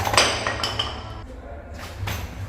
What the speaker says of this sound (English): I also have my hammer here, which I will use to drive home the wall blocks that will fix into the wall.